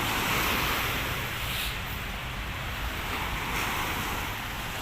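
Steady roar of surf washing along the Manila Bay shore, mixed with wind buffeting the microphone, continuous and fairly loud with no voices.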